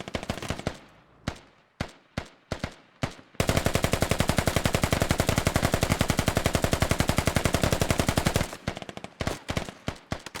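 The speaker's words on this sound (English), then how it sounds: "Shots from both ARs being traded back and forth." Machine gun and assault rifle fire in the military shooter game Squad. Scattered single shots open, then a long sustained automatic burst runs for about five seconds before breaking back into sporadic cracks.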